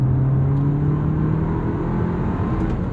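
A Cupra Formentor VZ2's 2-litre turbo TSI engine idles and hums steadily with a low, even drone, close by and constant, with no voices.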